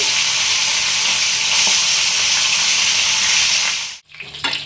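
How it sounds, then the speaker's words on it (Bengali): Rui fish frying in hot oil for a Bengali curry gives a loud, steady, close hiss and crackle that runs unbroken for about four seconds, then cuts off sharply and returns more faintly. "এভাবে আমি মাছগুলো ভেজে নেব লাল করে"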